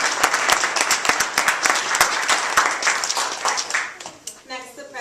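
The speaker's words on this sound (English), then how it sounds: "Can we give Miss Angie Bass another round of applause?" An audience claps in a steady wash of applause for a speaker named Miss Angie Bass at a Black History Month closing ceremony, loud and close before easing off near the end.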